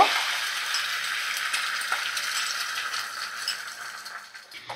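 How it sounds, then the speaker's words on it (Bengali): Three beaten eggs fry in hot oil in a pan, giving a steady, close, bright sizzle that hisses evenly throughout and fades slightly at the end. "এইভাবে 3টে ডিম আমি ভেজে নেব।"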